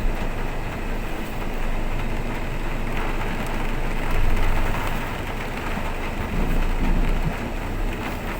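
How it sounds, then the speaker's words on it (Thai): Heavy rain pours steadily on a Thai homestead, a dense, continuous roar with no talk over it. "ฝนตกแรงมากท่านผู้ชม"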